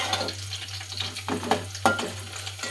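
Potato pieces fry in a hot pan with a steady sizzle, broken by a few louder bursts as they are stirred or turned, under a constant low hum.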